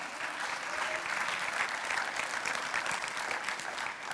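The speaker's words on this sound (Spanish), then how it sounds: "Dele un aplauso a Dios por eso." Church congregation applauding during a sermon, a steady, even burst of clapping from a crowd that holds for several seconds without speech.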